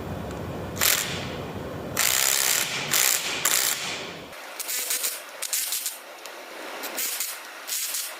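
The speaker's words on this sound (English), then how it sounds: "We're going to go ahead and torque those down." A ratchet clicks in quick bursts while torquing bolts on the differential of a Case 310G bulldozer, several close, sharp ratcheting runs separated by short pauses.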